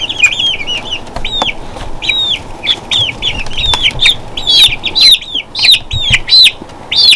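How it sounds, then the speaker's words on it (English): Nineteen-day-old baby chicks in a brooder give a rapid run of shrill, high peeping chirps, close and loud, repeating in quick bursts with no talking. "there goes my chickies at 19 days old, and they're looking really good"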